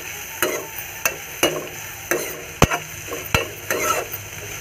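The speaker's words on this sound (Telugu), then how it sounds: "బాగా మిక్స్ చేయాలి" Spoon scraping and stirring chopped ajwain leaves into rice in a pan, with soft repeated strokes about once a second over a low sizzle.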